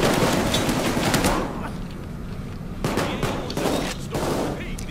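Dense gunfire in the heist game Payday 2, bursts of rapid shots crackling through a busy firefight with a pause in the middle, under excited talk from players.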